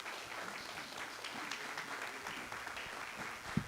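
Audience applause at a civic gathering for a new civic center in Visalia, heard as steady, moderately distant clapping from a crowd that holds its level throughout and ends with a single sharper clap.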